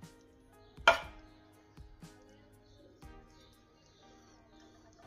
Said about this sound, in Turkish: Daha sonra biraz dereotu. İnce ince kes.